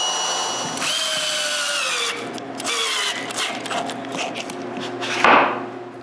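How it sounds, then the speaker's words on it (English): A power drill drives screws to fix an adjustment plate onto a wooden edge sander in a workshop, with several close whirring bursts that rise and slow under load, separated by short pauses and handling clatter. "now, with the back bolted in place, I can screw the adjustment plate in place"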